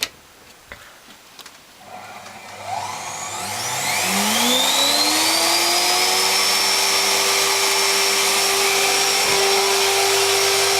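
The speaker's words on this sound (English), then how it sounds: "Let's try a 600 watt vacuum cleaner on DC" A 600-watt vacuum cleaner motor running on DC power spins up from a few clicks into a rising whine, then settles into a loud, steady drone close by.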